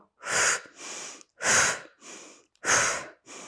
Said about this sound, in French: Je exagère la respiration pour que vous l'entendez.